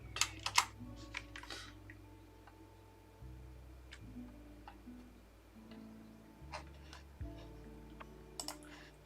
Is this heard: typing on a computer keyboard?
yes